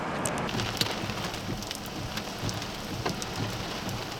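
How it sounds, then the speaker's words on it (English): Heavy rain pours down during a tornado storm, a dense, loud wash of drops pattering on surfaces with scattered sharper impacts throughout and no speech. "It's gonna rain hard."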